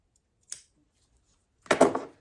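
Scissors cut fitted sheet elastic in two quick close snips, a short one then a longer one, separated by silence.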